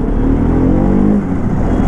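Bajaj Pulsar RS200 motorcycle engine (2024 model) while riding, a loud, steady low drone with a slight rise and fall in pitch throughout, close and continuous with no talk.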